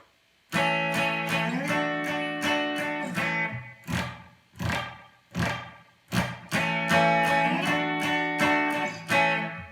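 Electric guitar plays a song intro, sounding the open bottom string and adding a hammer-on, with sustained chords broken by a few sharp, separated stabs in the middle before it rings on again, loud and close with no talking.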